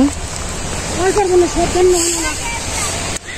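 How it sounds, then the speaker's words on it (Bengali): Rain falls during a paddy harvest in a Bangladeshi village, a steady close wash of drops running under someone speaking. "বৃষ্টি আইসে গেছে, পড়াই পারলা না হাইরে।"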